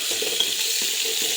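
Crushed garlic and onion frying in about a tablespoon of hot oil, a steady bright sizzle with soft low clatters of stirring, close and constant with no voice.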